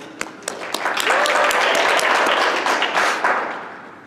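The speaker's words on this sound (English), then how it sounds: "give them a round of applause, please" A live audience at a Wallace State culinary arts sushi demonstration claps for the assistants, starting with a few scattered claps and swelling into brief, full applause before fading.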